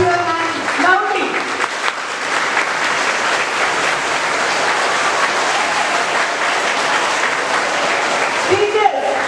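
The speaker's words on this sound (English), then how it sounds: "clap your hands loudly." Loud, dense audience clapping at a school Teachers' Day programme, sustained applause under a speaker's voice at the start and end.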